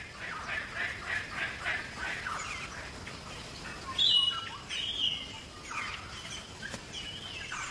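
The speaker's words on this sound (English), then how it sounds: "The local birds gather at trees that are fruiting." Birds call in the Ethiopian highlands, a steady chorus of chirps and tweets at middle distance over a continuous outdoor background hiss, with one brighter call standing out near the midpoint.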